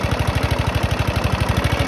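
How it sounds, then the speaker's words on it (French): A Wolf Rotondor RR lawn mower engine idles with a steady, rapid low putter, each firing pulse evenly spaced and loud, close to the machine. "le moteur il tourne pas trop mal, vraiment. Il y a une bonne compression, un bon ralenti."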